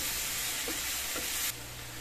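Squash, string beans and shrimp sizzle loudly in a hot pan while being stirred, with a couple of soft utensil scrapes, then the sizzle suddenly drops to a quieter hum.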